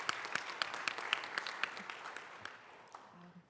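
Applause from a panel session audience at a dedication event for the May 4 Visitors Center, with sparse, fairly faint clapping at a steady rhythm that thins out and fades away toward the end.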